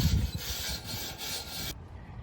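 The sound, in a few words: wire brushing rusty metal garden bench seat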